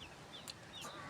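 A weak, listless chick trailing behind a hen gives a few faint, thin peeping chirps, each short and high, over quiet outdoor background.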